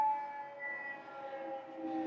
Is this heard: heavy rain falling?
no